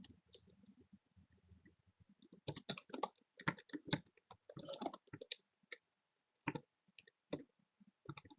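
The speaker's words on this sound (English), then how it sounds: "So I'll just be typing out the program first" Someone types a C++ program on a computer keyboard, sparse soft clicks giving way to quick bursts of close keystrokes with short pauses between them, quiet and alone without talk.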